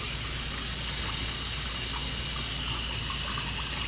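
Water leaking and spraying from a pipe fitting on a home under construction gives a steady, close hiss that holds evenly from start to finish, with no talk over it.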